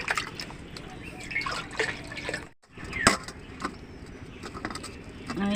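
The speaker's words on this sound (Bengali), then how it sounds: "আমি জল দেবো কড়াইতে" Water being poured into a wok in a home kitchen gives a continuous close splashing trickle with one brief pause and a sharp clink, while a voice talks faintly underneath.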